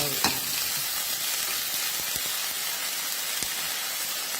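Minced pork stir-frying in a hot pan, a loud, dense, steady sizzle with occasional sharp spatula taps and scrapes, no talking.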